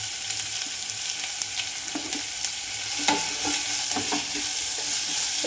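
Sliced onion sizzles steadily in hot ghee in a pan, with scattered scraping clicks of a spoon stirring through it, moderately loud and close with no talk.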